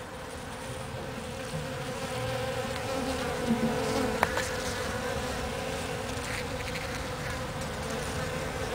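Bees buzz steadily near a flying saucer cactus, a continuous insect drone holding at moderate level throughout with no voices.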